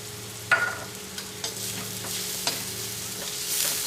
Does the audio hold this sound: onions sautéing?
yes